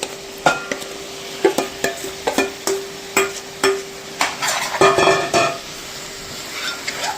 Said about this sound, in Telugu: ఇప్పుడు ఈ టోఫుని దీనిలో వేసేసుకుందాం